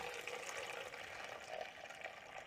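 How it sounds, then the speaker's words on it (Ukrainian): Hot water pours into a stainless steel bucket during winemaking, a steady faint rushing splash without talk. "Сюди ми кидаємо нержавічне відро, тому що ми будемо заливати його гарячою водою."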